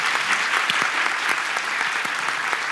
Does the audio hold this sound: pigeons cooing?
no